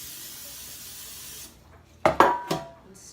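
A steady hiss of cooking spray into a loaf pan lasts about a second and a half, then stops, followed by a few sharp clanks of the metal pan being handled.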